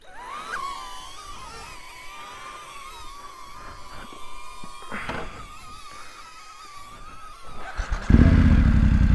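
A 2025 BMW F900GS motorcycle ridden along Thomas Mountain Road, its engine droning steadily with shifting pitch as it moves, then a sudden loud rush of wind or engine roar near the end.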